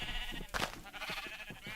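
Minecraft sheep in a survival farm pen give a sharp, close bleat followed by softer overlapping bleats and light pattering game noises.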